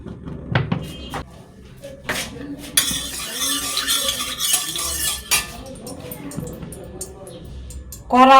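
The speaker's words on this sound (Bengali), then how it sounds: "চলো এবার কড়াই বসিয়ে দিয়েছি, মাছটা ভাজবো।" Hot mustard oil hisses and sizzles as fish fry in a pan for a few seconds, with utensils clinking and scraping and a person talking nearby.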